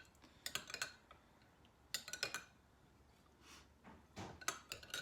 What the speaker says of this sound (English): I'm going to run a spoon through it just to make sure everything's mixed up